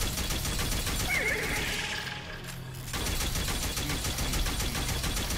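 Neigh from the mystical Star Horse in the video game Destiny 2, a loud whinny over busy game sound with a brief dip in the middle, then the clatter resumes.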